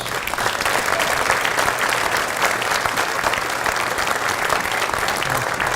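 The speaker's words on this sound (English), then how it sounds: "please stand and give them a round of applause" Sustained applause fills a hall at a Washington High School Hall of Fame induction as committee members stand, a thick, continuous roar of many clapping hands holding at a steady level from start to finish.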